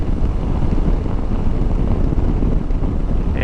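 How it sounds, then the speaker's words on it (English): Wind roars against a motorcycle helmet on a CFMOTO 800MT touring bike on a gusty day in Victoria, Australia, a loud, continuous low buffeting rush with no voice over it. "it's a really windy day here today in Victoria, Australia, but you might hear just how noisy my helmet is"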